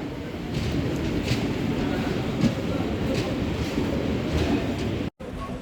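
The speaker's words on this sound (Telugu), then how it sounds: "Nidadavolu Bhimavaram junction MEMU express అయితే ఇప్పుడే వచ్చింది" A Nidadavolu–Bhimavaram MEMU express train at a station platform, heard as a continuous loud rumble and hiss with a few faint clanks, broken by one brief dropout near the end.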